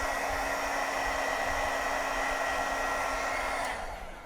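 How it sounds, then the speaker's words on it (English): A heat gun blows steadily on a thin strip wrapped around a pipe, giving a loud, close, continuous whirring rush that cuts off near the end. "we're just going to wrap this around a pipe and then hit it with a heat gun"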